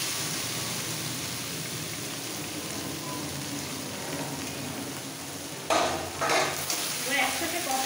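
Fried jackfruit sautéing with spices in a hot pan, a constant loud sizzle that brightens near the end as stirring scrapes and tosses the pieces.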